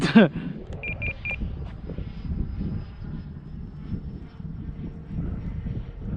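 A small XFly Sirius radio-control jet flying at half throttle, a steady low whooshing engine drone carried on the wind, with a few short electronic beeps at the start.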